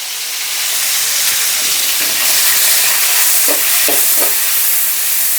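Tomatoes frying in a shallow layer of oil, with a steady broad sizzle and hiss and a few short stirring scrapes near the end, close and fairly loud with no talking.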